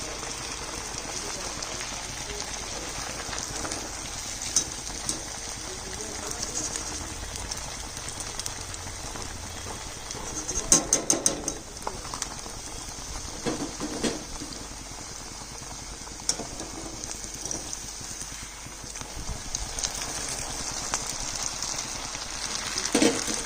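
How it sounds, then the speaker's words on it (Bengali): Semolina luchi (sooji puris) deep-frying in hot oil, giving a steady, soft crackling sizzle throughout with brief louder pops and spatters near the middle. "এইভাবে করে সমস্ত লুচিগুলো ভেজে নিচ্ছি"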